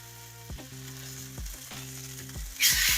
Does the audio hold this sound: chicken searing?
yes